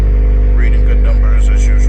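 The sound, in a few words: Acura TLX 2.0 2022 engine revving, straight pipe, muffler delete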